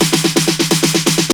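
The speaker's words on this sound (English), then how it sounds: "which is an 808 snare, which is following that snare build in the second drop to make it feel even bigger." Layered 808 and 909 snare build, rapid evenly spaced bright snare hits repeating about eight times a second over a rising tone, loud and close with no voices.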